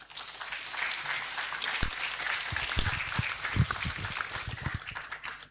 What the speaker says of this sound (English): a much bigger hand clap than that